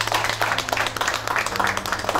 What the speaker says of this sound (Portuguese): Ok, família, uma salva de palmas.